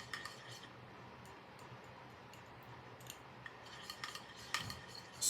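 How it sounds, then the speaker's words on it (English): A spoon stirs a homemade cocoa butter hair conditioner mixture in a container, faint soft scraping at first, then a few louder clinks and taps toward the end. "we're going to give this a good stirring until it's all nice and broken up"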